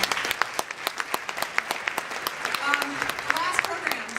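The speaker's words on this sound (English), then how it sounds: "give yourselves a round of applause" Applause at a football team awards gathering, with distinct individual claps in an uneven rhythm as a modest crowd claps, while voices talk and call out underneath toward the end.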